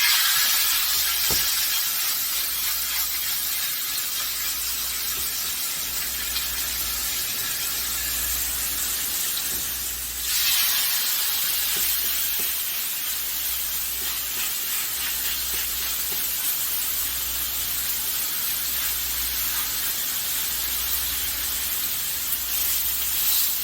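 Pork chops searing in a small amount of oil in a hot pan give a steady, close hiss and sizzle that holds on continuously with little change, with no talking.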